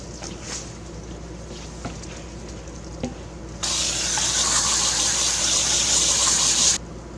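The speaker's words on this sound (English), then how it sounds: "I'm going to spray this side down one more time." A hose bursts on and sprays water hard and steadily through a car radiator for about three seconds, then cuts off, with faint rattling before it.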